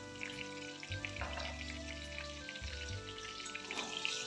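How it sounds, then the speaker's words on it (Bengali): Eggplant pieces shallow-frying in oil with salt and turmeric, a soft steady sizzle with light crackling pops and occasional faint stirring, quiet and close, without any talk. "বেগুনগুলোর মধ্যে আমি নুন আর কিছুটা পরিমাণ হলুদ দিয়ে হালকা করে ভেজে নেব।"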